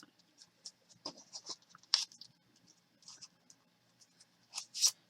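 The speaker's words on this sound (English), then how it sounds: "just snip the side" Scissors snip along the side of a handmade card holder for a pocket-sized planner, giving a few faint, quiet cuts and small clicks in a hushed room.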